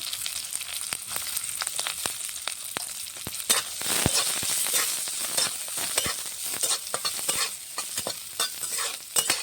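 Chopped green chillies and garlic frying in hot oil with a tempering of dried red chillies and nigella seeds, a bright close sizzle dotted with frequent sharp stirring clicks, no talk.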